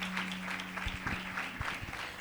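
Applause from a congregation at a worship service: dense, continuous clapping throughout, with a steady low hum and a few thumps beneath it.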